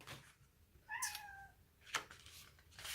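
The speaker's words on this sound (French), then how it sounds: "j'ai mon chat qui n'arrête pas de miauler" A house cat meows once, clear and close, a rising-falling call about half a second long, followed by faint shuffling and a soft breathy noise.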